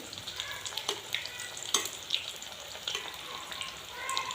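Potato pakoras sizzle and crackle in hot oil as they puff up, a busy close frying hiss with scattered sharp pops and bubbling bursts, no talk.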